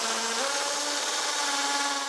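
A power drill bores holes near the front entrance to mount a parcel box, giving a loud, steady, close whining grind with no pauses.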